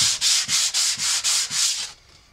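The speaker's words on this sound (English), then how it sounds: "Now I'm going to use some emery paper to just smooth the surface" Rapid back-and-forth rasping of emery paper rubbed over a wooden breadboard coated with sanding sealant, about seven quick strokes close up, then it stops.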